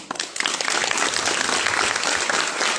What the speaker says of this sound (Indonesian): kita beri tepuk tangan untuk kita semua dulu.